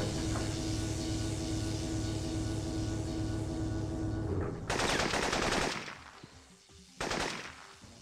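Gunfire in Syphon Filter on the PS1: a long steady rattle of automatic fire over a low hum, then two loud, harsh bursts that break off abruptly. No speech is heard.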